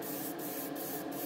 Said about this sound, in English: pretty much need to spray it from every possible angle to get into all those kind of nooks and crannies